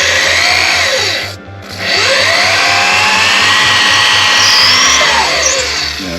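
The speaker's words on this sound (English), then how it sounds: "You know that this drill is older than that one?" An older power drill runs steadily, a loud whirring motor with a rhythmic pulsing hum that briefly dips in speed before revving back up and continuing.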